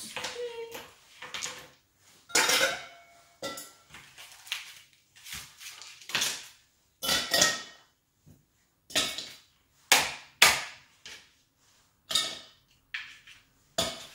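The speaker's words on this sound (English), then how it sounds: "We're gonna put some ice in." Irregular clinks and clatters of ice cubes dropping into a metal cocktail shaker while making a cognac cocktail, several separate bursts with short pauses between, close and fairly loud.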